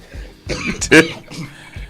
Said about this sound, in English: You coughing a lot in here.